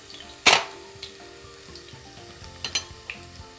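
Ginger and green chilies hit a hot pan with one sharp sizzling burst, then a softer frying hiss continues. A few light stirring clinks and scrapes follow near the end.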